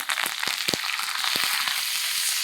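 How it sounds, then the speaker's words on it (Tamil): Fennel seeds and curry leaves are tempered in hot oil for an egg kothu poriyal, giving a loud, steady sizzle broken by sharp crackles and pops that come in irregular bursts. No one speaks. "இதில் கொஞ்சம் சோம்பு அப்புறம் கருவேப்பிலை கருவேப்பிலை தாளிச்சுக்கலாம்"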